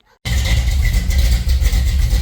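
After a short hush, a car engine with a freshly repaired thermostat housing sits idling, a loud, close, steady low rumble that stays even from start to finish.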